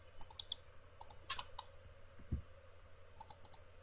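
Sparse computer mouse clicks made while drafting in AutoCAD, coming in short bursts of two or three quick taps with pauses between, close and fairly quiet, with no talking.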